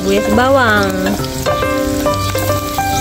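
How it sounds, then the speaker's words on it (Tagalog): Chopped onion frying in hot olive oil in a backyard cooking setup, a steady sizzle throughout with tonal music playing over it. "Painitin lang natin tong olive oil. So ayan guys, nilagay ko muna ang ating sibuyas"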